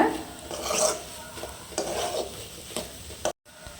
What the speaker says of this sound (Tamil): மிளகாத்தூள் போட்டு நல்லா கலந்து விட்டுட்டோம்.